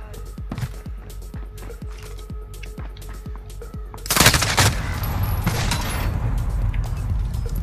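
Sniper gunfire in a console shooter game, a rapid series of sharp regular shots followed by a loud heavy blast and lingering rumble.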